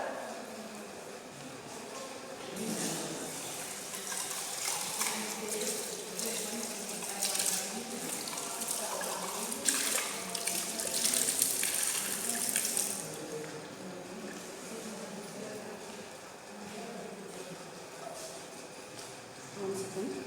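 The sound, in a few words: washing a calorimeter with running water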